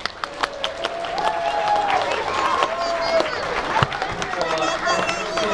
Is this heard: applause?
yes